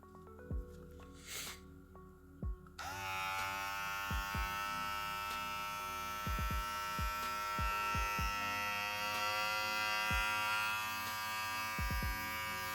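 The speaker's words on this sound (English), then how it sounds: "Not a bad clipper." A Wmark NG 208 hair clipper with a ceramic blade switches on after a few quiet seconds and runs with a steady, bright electric buzz and whine. Soft clicks and taps sound now and then over the motor.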